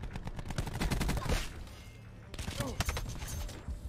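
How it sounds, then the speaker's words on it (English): Rapid automatic gunfire from a sentry gun in Black Ops 4 multiplayer, dense bursts of shots close by with a short lull mid-clip, under a voice. "Oh, there's that sentry gun still on."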